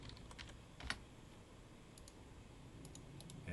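Computer keyboard typing, a short burst of light clicky keystrokes followed by sparser taps, close and fairly quiet with no voices.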